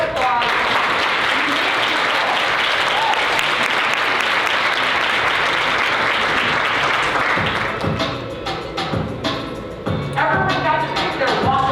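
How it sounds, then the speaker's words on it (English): Conference audience breaks into sustained, dense applause that fills the room for most of the stretch, then thins into scattered claps and a few cheers near the end. "can we give her a big round of applause?"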